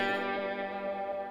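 An electric guitar played through gain, drive and heavy reverb sustains a dense, distorted chord that rings steadily and slowly decays, alone with no voices.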